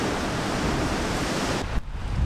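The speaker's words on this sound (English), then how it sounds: "You're gonna see the ocean crashing against us." Ocean waves crash against an anchored boat, giving a continuous broad wash of surf with wind buffeting the microphone, then a brief thud and lull as the water surges.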